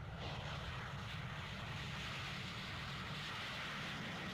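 Concorde 002, the supersonic airliner, roars steadily at takeoff, a loud dense constant jet-engine rumble that fills the whole stretch without a break.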